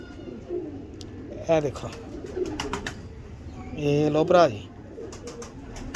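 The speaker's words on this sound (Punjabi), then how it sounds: "ਦੇਖ ਲਓ ਦੁਬਈ ਵਾਲੇ ਕਬੂਤਰ ਹੈ" Teddy breed pigeons coo in two close throaty bursts while someone talks over them.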